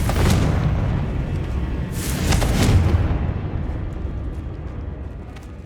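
A Confringo blasting spell explodes in Hogwarts Legacy, a loud, deep booming burst that swells around the second mark and then rumbles and decays slowly into a fading roar.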